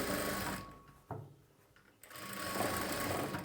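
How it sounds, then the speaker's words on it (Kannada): A sewing machine stitches a straight blouse seam up to the chest notch, a steady close mechanical whir that stops for about a second in the middle, then starts up again and runs on. "ಈ ಚೆಸ್ಟ್ ನಾಚ್ವರೆಗೂ ಈ ರೀತಿ ಸ್ಟ್ರೈಟಾಗಿ ಒಂದು ಸ್ಟಿಚ್ನ ಮಾಡಿಕೊಂಡು"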